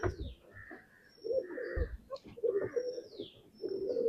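Pigeons in a loft coo in repeated low, throaty phrases, several calls overlapping at close range with short pauses between bursts.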